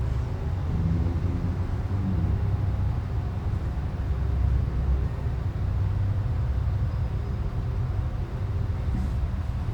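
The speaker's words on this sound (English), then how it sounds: "Car noises, in case you're wondering what those sounds were." Passing cars outside an 1863 inn in Gettysburg produce a steady low rumble and broadband road noise that swells and fades gently over about ten seconds, with no voices.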